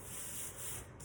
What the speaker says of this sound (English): I'm gonna take my sanding sponge right here and just sand off the edges just like this